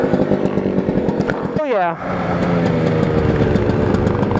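A motorbike engine revs hard in second gear, a loud, close, buzzing pitch that sweeps up then drops sharply before settling into a steady drone, with a brief exclamation from a voice over it.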